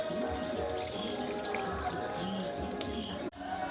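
Tamarind water is poured into a cooking pot for an oil-fried eggplant curry, a steady close splashing stream running throughout before a short knock near the end.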